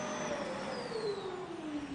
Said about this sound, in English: The testers are to evaluate the noise of several vacuum cleaner models.